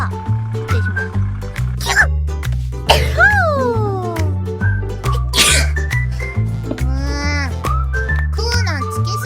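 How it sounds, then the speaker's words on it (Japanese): A sneeze bursts out over steady background music, followed by a few short voiced sounds and breaths; the sneeze is close and loud among rhythmic musical notes. "くしゃみ出ちゃった"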